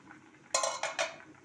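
A metal lid clatters onto a cooking pot in a home kitchen, two quick close metallic clanks with brief ringing, against a quiet background.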